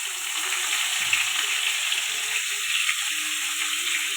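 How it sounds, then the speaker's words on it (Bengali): Cauliflower florets hissing and sizzling in hot oil in a pan, a steady close frying crackle with faint stirring noises, no talking. "দিয়ে দিলাম ওই তেলের মধ্যে ফুলকপিগুলো"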